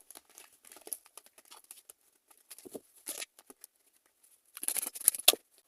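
Tarot cards are handled, shuffled and laid down in soft, close, intermittent bursts of light papery flicks and rustles, with quiet gaps between and a busier flurry at the end.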